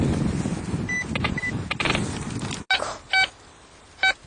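A metal detector sweeping for buried metal gives sharp electronic beeps, short tones sounding alone and close after a burst of rustling movement, with two distinct bleeps near the end.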